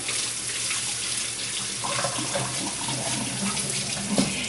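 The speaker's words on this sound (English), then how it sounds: "Let me wash my hands again." Tap water runs steadily into a kitchen sink while hands are washed between steps of baking a fresh peach cake, a continuous close splashing hiss with no talking.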